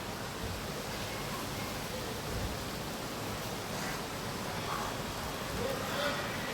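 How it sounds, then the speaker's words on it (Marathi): Steady rain falls in Pune during the season's first monsoon shower, a continuous even hiss that fills the whole stretch with faint scattered drips and no distinct events. "खूप छान पाऊस असा पडतोय"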